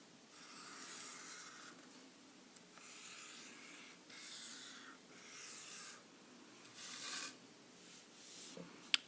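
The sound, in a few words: drawing lines of an area model by hand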